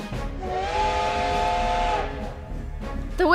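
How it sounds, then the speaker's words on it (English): A steam train whistle in the Code: Realize game blows one long, steady, loud tone that holds for about a second and a half under a constant hiss of steam, then cuts off. No one speaks. "The whistle blows again and the scenery outside the window begins to move slowly."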